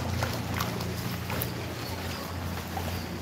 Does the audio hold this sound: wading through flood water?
yes